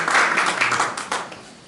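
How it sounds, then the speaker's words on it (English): Conference audience at a DevOps event applauds to welcome a speaker, a brief burst of clapping that fades quickly. "So, let's welcome Andrey with applause."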